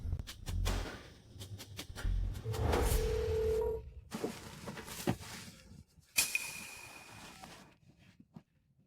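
A telephone is dialed, with brief electronic tones and beeps between soft clicks and thumps, fairly quiet and close, with short gaps of near silence.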